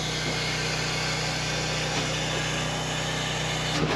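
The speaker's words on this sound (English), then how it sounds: "Let's turn on the pump." A water pump starts up and runs steadily on a homestead, a continuous mid-loud engine-like drone with constant vibration and no talk.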